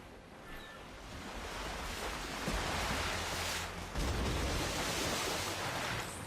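Ocean waves and wind rush in a broad, steady wash as a ship sails out to open water in the video game Assassin's Creed 4: Black Flag, loud and continuous with a few swells.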